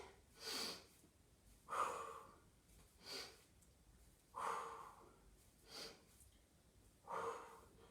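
Slow, deliberate breaths during a Pilates exercise come close and clear, about six audible inhales and exhales spaced a second or so apart, some with a nasal, sniffing edge, with no talking.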